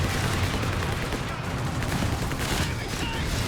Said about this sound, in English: Is this a strafe? Yeah, it's a strafe.